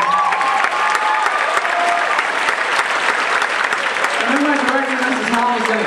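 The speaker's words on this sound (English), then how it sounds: "I think everyone deserves a huge round of applause because that was fantastic." An audience at a Totem Pole awards ceremony gives a dense, sustained round of applause, steady and loud throughout, with a few faint voices and cheers mixed into the crowd noise.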